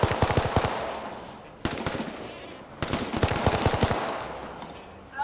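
Rapid automatic gunfire in the online shooter H1Z1, loud close bursts of shots in two clusters separated by short gaps, with fainter distant shots in between.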